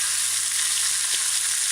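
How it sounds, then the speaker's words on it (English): A fish fillet sizzles steadily in hot oil flavored with a garlic clove, giving a loud, even, continuous hiss with no voices. "Place the fish fillet in the hot oil"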